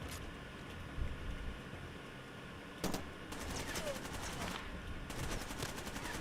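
Bursts of video game gunfire, a few isolated shots then longer rapid strings of automatic fire, moderately loud over a steady background bed.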